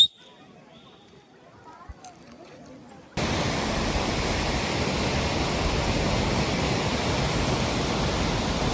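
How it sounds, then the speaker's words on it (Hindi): Near a dam in Munnar, Kerala, water bursts from an opened shutter after a quiet moment with faint voices, becoming a sudden, loud, continuous rushing roar. "इन्होंने डैम का पानी खोल दिया भाई"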